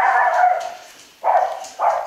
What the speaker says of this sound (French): Ça, c'est notre chien.